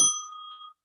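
A single bell sound effect: one bright struck ding with clear ringing overtones that rings out and fades within under a second, alone and fairly soft.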